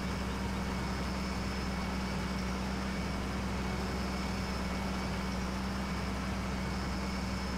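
Steady low idle of a 12.5 liter MAN truck engine fitted in a big Fendt tractor in Farming Simulator 17, a constant even drone held throughout at moderate level with no talk.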